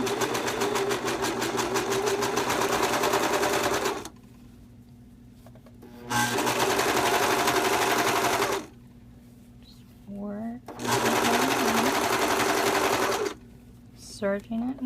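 A serger overlocks a seam on a V-neck tee shirt in three loud, steady bursts of rapid stitching, with short quiet pauses and brief low talk between runs.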